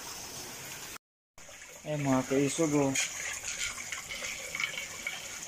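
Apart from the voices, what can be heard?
floodwater flowing into a house during typhoon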